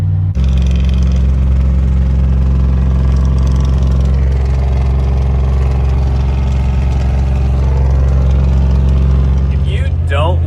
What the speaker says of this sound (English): If you don't like the sound of an IDI engine braking